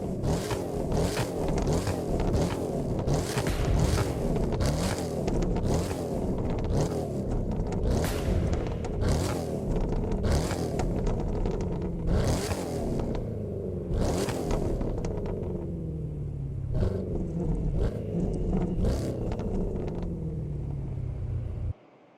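A tuned car engine revs hard again and again, each rev ending in sharp exhaust pops and crackles, loud and close, with a steady rhythm of bursts before it cuts off abruptly.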